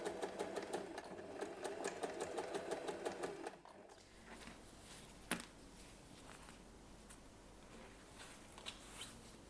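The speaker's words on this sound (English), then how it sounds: "Sew the label in place." A sewing machine stitching a label onto pouch fabric, a rapid rhythmic mechanical whir for about three seconds and then stopping, followed by faint handling noises and a single soft knock in a quiet room.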